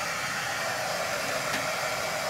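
A hair dryer blows loudly and steadily at close range, drying small pieces of wet paper with an even, unbroken rushing whoosh throughout.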